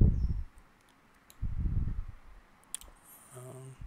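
Computer mouse clicks in Movavi Video Editor, a few sharp, brief taps scattered among quiet gaps and low rumbling handling noise, fairly close, with no talking.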